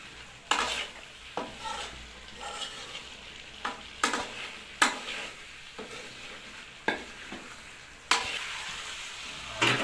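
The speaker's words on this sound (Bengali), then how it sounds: "হালকা জল দিয়ে দিয়ে কষে নিতে হবে।" Capsicum and radish sauté in a pan with a little water, bringing a constant soft sizzle broken by sharp spatula scrapes and taps every second or so, close by, with no talking.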